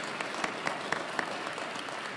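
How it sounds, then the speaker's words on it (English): Convocation audience applauding a graduate milestone at an African American History Month event, a faint, steady patter of clapping with a few sharper individual claps standing out near the start. "That deserves an applause"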